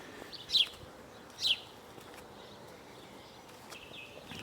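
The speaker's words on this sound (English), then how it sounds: "You can hear the birds." Outdoor birds along a walking path give two short, bright chirps close together early on, then fall quiet over a steady low background murmur.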